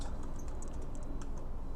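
Quick, light key taps on a computer keyboard, including backspace presses, come as a soft irregular clatter over a constant low room hum.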